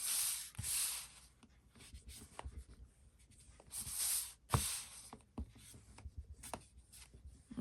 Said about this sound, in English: I'm going to go on the back side, and I'm going to burnish around just like you would do a cover